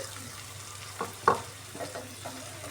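Onions fry in a pan for an egg curry with a soft steady sizzle, and a few light knocks and scrapes come from a stirring spoon, close and fairly quiet with no talking.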